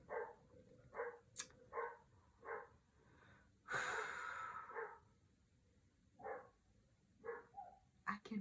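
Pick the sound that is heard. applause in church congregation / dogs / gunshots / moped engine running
dogs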